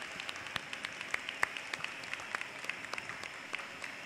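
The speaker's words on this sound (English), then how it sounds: "So I think we should give Mika and the team a round of applause for a successful Swedish overlay." A studio audience applauds a successful Swedish overlay, a steady patter of clapping with scattered sharp individual claps, moderately loud and close throughout, with no talking over it.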